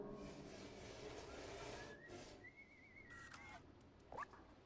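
Someone whistling inside the video game Stray, a faint thin tune of sustained notes over quiet low ambient hum, with a brief sharp chirp near the end.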